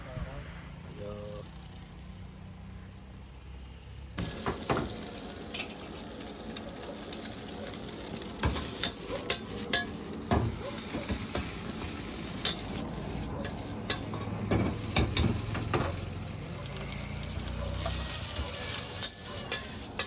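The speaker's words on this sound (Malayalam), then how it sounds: "ഞങ്ങൾക്ക് വേണ്ടിയുള്ള ചിക്കൻ ഫ്രൈഡ് റൈസാണ് അണ്ണൻ ഈ ചട്ടിയിലിട്ട് റെഡിയായിക്കൊണ്ടിരിക്കുന്നത്" Chicken fried rice stir-fries in a pan at a roadside eatery in Kodaikanal, with steady sizzling and repeated sharp scraping and clanking of a ladle against the pan, plus faint background noise and occasional voices.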